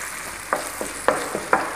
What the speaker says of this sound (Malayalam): അപ്പോൾ നമുക്ക് ചിക്കൻ ഫ്രൈ ചെയ്തെടുക്കാം.